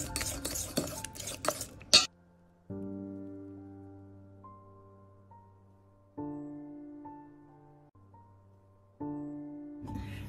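A spoon stirs tart filling mixture seasoned with salt and pepper, scraping briskly against the bowl for about two seconds. Then the stirring stops and soft sustained musical tones carry on alone.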